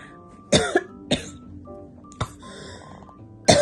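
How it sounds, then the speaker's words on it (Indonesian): A person coughs in several sharp, separate bursts spread across a few seconds, close and loud, with short quiet gaps between. "Makanya sampai batuk-batuk aku"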